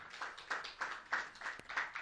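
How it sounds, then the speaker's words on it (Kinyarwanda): Scattered applause greets a student receiving an award at a school exam-results prize ceremony, heard as a quiet, rhythmic run of claps in regular bursts. "baguhe amashyi"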